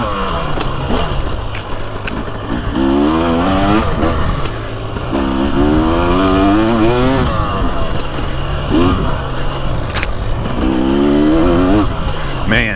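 A 2023 Husky TX300 or Beta 300 two-stroke TBI dirt bike rides a woods loop close by, its engine rising and falling through repeated throttle roll-ons and revs, with a voice talking over the engine noise.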